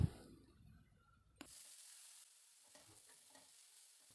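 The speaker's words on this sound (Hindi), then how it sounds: "हाई फ्लेम में इसे थोड़ी देर के लिए मिक्स कर ले रही हूँ" Chicken and broccoli stirred in a pan over a high flame, a loud sizzling burst at first that drops to a quieter, steady frying hiss with light scraping stirs near the end.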